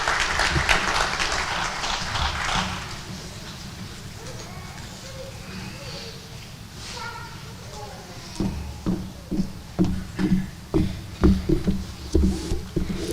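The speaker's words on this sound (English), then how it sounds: "it's okay to clap more than 5 times" Applause rises from the audience at a cadet commencement ceremony, first a broad crackling wash that fades, then a speaking voice, then a bout of sharper, rhythmic claps near the end.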